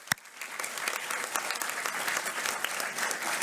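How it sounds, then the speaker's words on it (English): An audience at a high school scholarship night gives a round of applause, dense, steady clapping that fills the room for a few seconds after one sharp opening clap. "How about a huge round of applause for Bridget Lambert?"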